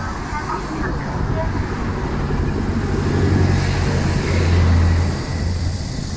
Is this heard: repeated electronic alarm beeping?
no